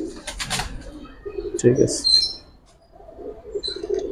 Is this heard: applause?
no